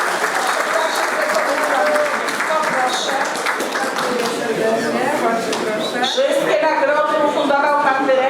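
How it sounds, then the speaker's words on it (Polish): An audience at a school history contest award ceremony applauds, a loud dense burst of many hands clapping that continues throughout, with some voices mixed in toward the end. "brawa"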